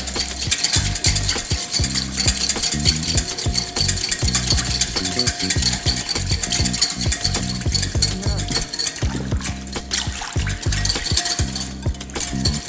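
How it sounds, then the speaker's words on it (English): A whisk clatters rapidly and rhythmically against a bowl as olive oil is beaten into a salad dressing, a close, steady metallic rattling with no talk. "I'm going to whisk and add the olive oil a little at a time"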